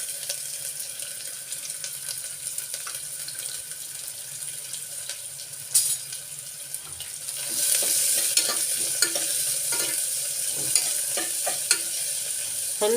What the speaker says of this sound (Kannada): ಅದು ಎಣ್ಣೆಯಲ್ಲಿ ಹುರಿತಾ ಬಿಟ್ಕೊಳ್ಳುತ್ತೆ ಕ್ಲೀನಾಗಿ